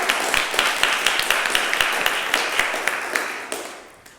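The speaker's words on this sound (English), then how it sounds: "Let's give Peter a round of applause for that" A church congregation applauds a speaker in a steady run of crisp, closely spaced claps that hold at a lively level before tapering off at the end.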